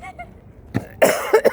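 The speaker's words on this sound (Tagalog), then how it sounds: "Inuubo." A person coughs outdoors in a park during cold weather, a few sharp bursts near the end after faint sounds and quiet, close by.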